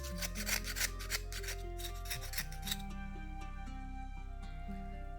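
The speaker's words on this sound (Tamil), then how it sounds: "இப்போ புளியங்காயில் மேலே இந்த இதை சுரண்டி எடுத்துடலாம்." Raw tamarind pods being lightly scraped to remove the skin, giving a soft, continuous rasping and rubbing over a quiet, steady tonal background.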